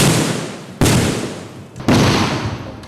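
Two sharp, loud bangs about a second apart, each followed by a decaying echo, from firecrackers and real guns on a film set.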